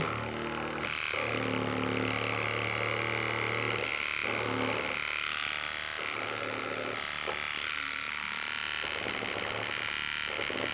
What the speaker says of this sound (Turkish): Tıraş makinesini de bir deneyelim bakalım.